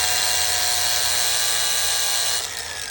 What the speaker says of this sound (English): I'm just gonna sharpen up the tip of a 3/8 all thread